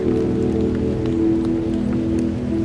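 Rain falling on a campsite beside a mountain lake in northern Pakistan, a steady close patter of drops on a surface with a low droning hum beneath, loud and unbroken, no talking.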